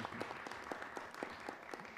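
Audience applause at a Peruvian science and technology event honouring the IPEN nuclear institute: a dense, continuous patter of many hands, moderately faint and steady for two seconds, with no speech.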